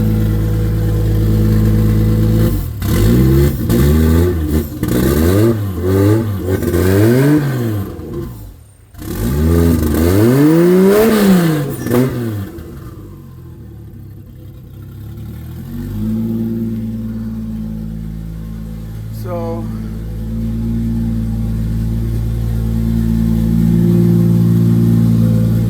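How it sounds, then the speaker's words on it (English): A Toyota Supra engine is blipped through a run of quick, loud revs that climb and fall one after another, then settles into a steady, rumbling idle that holds to the end. "Gonna rev it up just a little bit and then shut her down."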